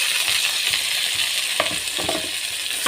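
Tomatoes hitting a pan of golden fried onions with rock salt, giving a steady hiss of frying with a few brief clinks and scrapes near the middle and end, close and moderately loud with no talking.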